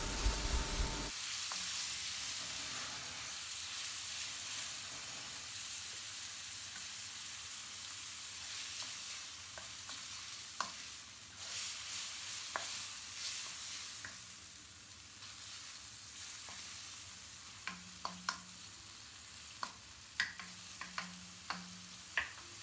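Chopped tomatoes stirred and fried in a pan for restaurant-style mutton karahi give a steady, close sizzle broken by scraping spatula strokes and a few sharp clicks near the end, with no talking.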